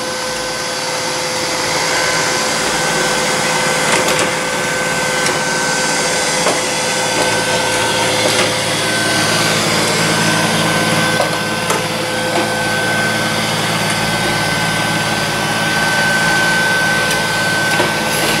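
Neato Botvac D6 robot vacuum cleaning a floor, making a steady whirring motor and brush drone with a constant high whine and occasional clicks, loud and close throughout.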